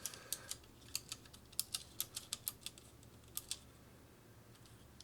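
A mechanical keyboard for a Commodore 64 clacks under single key presses, close and fairly quiet, in an irregular sequence of separate taps with short pauses between them.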